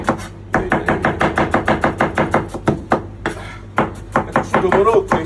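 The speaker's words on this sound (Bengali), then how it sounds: "এইভাবে পেঁয়াজটা কাটি কাটি" Onions chopped with a knife on a board for a chicken dish, a fast, steady run of close, sharp chops with a short pause midway before the rapid chopping resumes.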